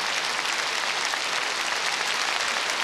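Concert audience at an anniversary celebration giving a performer a dense, even burst of clapping, steady and full throughout with no voices standing out.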